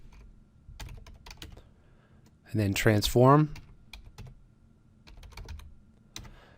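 Keys clatter on a computer keyboard while code is entered, soft quick taps spread through the moment, with someone talking briefly in the middle over the typing.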